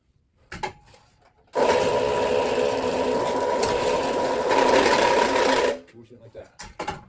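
A Vevor wire stripper runs on 2/0 copper wire with a loud, steady mechanical whir for about four seconds, starting and stopping abruptly between quieter handling noises.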